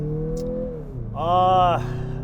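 Engine of a Mazda CX-50 in sport mode revs up from a steady hum into a brief rising rev, close and prominent, with talking over the idle beforehand.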